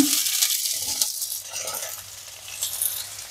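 Onion sizzling and frying in olive oil in a pan, a steady broad hiss with occasional stirring scrapes, close and fairly loud throughout, no talking.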